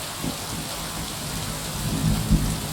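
Steady rain in the video game Kingdom Come: Deliverance 2 hisses continuously, with low thunder rumbles swelling toward the end, no voices over it.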